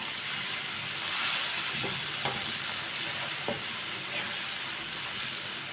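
A spoon stirs bottle gourd curry with fresh coriander in a pan over a steady close sizzle, with a few soft scraping strokes rising above the frying hiss.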